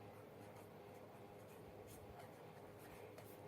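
An exam answer is written by hand, giving a very faint scratch of pen on paper under a steady low background hum, with soft strokes scattered through the few seconds.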